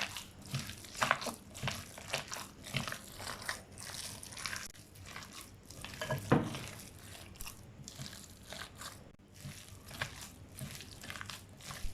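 A thick chicken keema pakora batter of gram flour and a little water is stirred by hand, producing close, quiet squelching and wet smacking strokes in an irregular rhythm.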